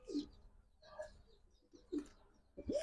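Military and Lal Patti pigeons coo softly at a farm, four short throaty coos spaced roughly a second apart, faint and close, with a quiet background and no voices.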